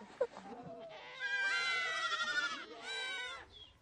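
A herd of goats and sheep in the Moroccan Atlas mountains bleating, several overlapping drawn-out calls close by, rising and falling over a few seconds with no talk.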